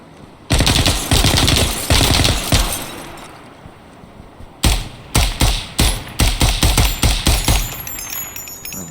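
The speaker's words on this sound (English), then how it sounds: "he's already starting to shoot at me" Close, loud gunfire in the tactical shooter Ground Branch: a run of sharp single shots, a short pause, then a quicker string of cracking rounds. No voices.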